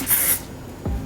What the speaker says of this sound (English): I'm just gonna spray some of this volume spray again